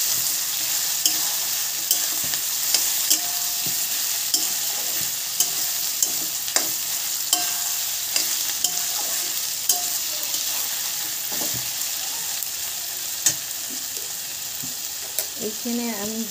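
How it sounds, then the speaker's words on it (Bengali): Tomato masala fries in a pan under a dense, loud, continuous sizzle, with light periodic stirring scrapes and no talking. "এবার এটাকে একটু নেড়ে দেবো"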